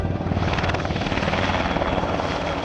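Caïman and Cougar military helicopters during a French army exercise in northern France, a loud steady rotor thump and turbine roar filling the air, close and continuous.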